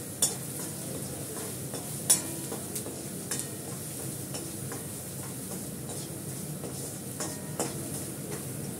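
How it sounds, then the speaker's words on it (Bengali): Potatoes with salt and turmeric fry and are stirred in a pan. A low, continuous sizzle runs throughout, broken by occasional light clinks and taps of a utensil against the pan. "ভালো করে কষিয়ে নিই।"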